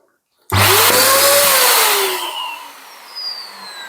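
An electric balloon inflator starts abruptly with a loud, close whine and roar as it blows air into a 260 twisting balloon, the pitch rising and sliding, then easing off and fluttering after a couple of seconds.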